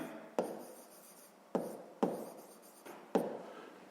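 Pen strokes on paper as math notes are written down, quiet close scratching with five sharp onsets, each trailing off into a soft rub, with no talk.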